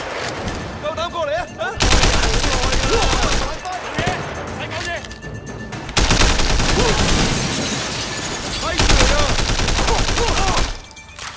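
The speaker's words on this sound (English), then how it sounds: "Let's try to shoot them from here." Gunfire in the video game Sleeping Dogs, loud bursts of rapid automatic shots in several long volleys separated by short quieter gaps, close and dense, with a voice talking between bursts.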